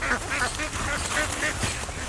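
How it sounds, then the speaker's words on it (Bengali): Several ducks feeding on grain in an open, harvested paddy field, quacking in a dense, overlapping chorus of repeated calls, loud and close, with no talk. "ফাঁকাই মাঠে এই হাঁসগুলোকে আমি এই ফ্রি খাবার খাওয়াচ্ছি, ধান খাওয়াচ্ছি।"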